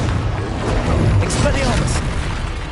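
Confringo blasting spell explosions from the Hogwarts Legacy game on PS5, a dense rumbling boom that swells and lingers, layered with heavy combat noise throughout.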